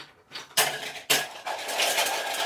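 Plastic toy fruit pieces clatter into a pot and are stirred around, giving a few sharp hollow knocks followed by a steady rattling scrape, close and fairly loud, with no talking.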